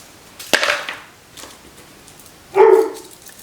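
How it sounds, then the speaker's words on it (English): A dog barks indoors while rain falls outside, two separate sharp barks, the first short and the second louder and fuller, with quiet gaps around them and no talking. "And the dog is barking because it's raining outside"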